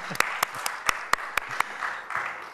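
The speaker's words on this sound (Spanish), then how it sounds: "creo que les merecemos un aplauso" Sparse applause from a small audience at a youth association's presentation event, a handful of separate sharp claps standing out over a soft background murmur.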